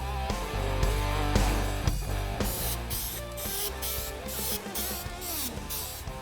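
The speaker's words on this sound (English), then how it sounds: "When applying custom wrap, make sure you're spraying in a well-ventilated area." Short, repeated hissing bursts of Dupli-Color Custom Wrap aerosol spray, applying a removable smoke tint to a lens, evenly spaced, over steady background music.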